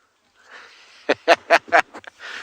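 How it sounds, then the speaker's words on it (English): Several loud, harsh chattering calls of buffalo weavers burst out in a quick cluster over a faint rustling background, close by, on an African sunrise safari. "You could hear the buffalo weavers making a lot of noise."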